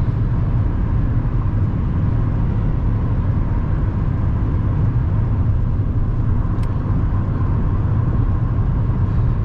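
A car drives along a road on a Sunday evening, heard from inside as a steady, loud, unbroken drone of road and engine noise with no talking.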